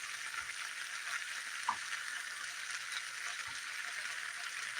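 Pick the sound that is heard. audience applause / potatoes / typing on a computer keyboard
potatoes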